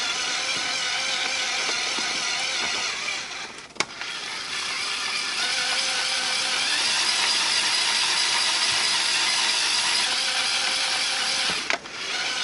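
Small LEGO amusement ride mechanism with a wheel, gear and axle turning, giving a steady close whirring, clicking mechanical sound with brief dips around a few seconds in and near the end.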